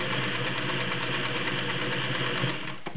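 A Singer 604E Touch & Sew straight-stitch sewing machine, freshly serviced, runs steadily for about three seconds with a smooth, continuous motor hum and rapid needle chatter, then briefly slows near the end.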